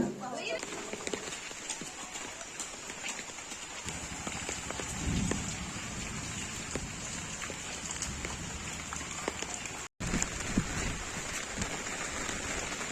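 Steady rain falls throughout in a village, a constant hiss on surfaces, with brief clattering and a short dropout near the end.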